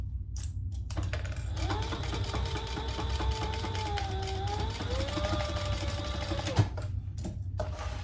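A sewing machine runs steadily through a crossbody bag seam for several seconds, a continuous mechanical whir with a faint tonal hum, stopping briefly near the end before a soft click.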